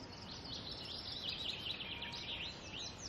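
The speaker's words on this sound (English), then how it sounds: "Chaffinch, again, very recognisable call, song, repeats the same thing every time." A chaffinch sings its repeated song phrase ending in a squelchy trill, somewhat distant and mixed among other birds of a Cumbrian dawn chorus, with a steady bed of background birdsong.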